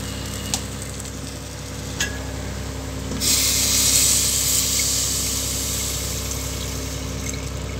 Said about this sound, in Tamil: கொஞ்சமாக தண்ணி ஊற்றி இது கொதிச்சுட்டுருக்கட்டும்